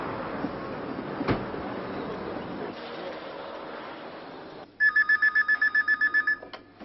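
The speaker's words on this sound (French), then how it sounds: "Monsieur Chapira, vous êtes demandé au téléphone." A telephone rings in a hotel setting, sounding as a rapid, close, trilling electronic ring repeated in quick pulses after a stretch of muffled background noise.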